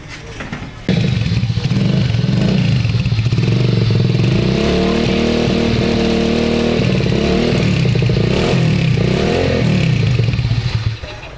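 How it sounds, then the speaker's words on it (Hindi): A modified Road Prince 100cc motorcycle, rebuilt in KTM style, starts up and revs loud and close, its exhaust giving a rough, steady drone with rising and falling throttle blips and some mechanical clatter. "ये वर्किंग जो है स्टार्ट करके इसका एग्जॉस्ट की आवाज़ सुना सकते हैं।"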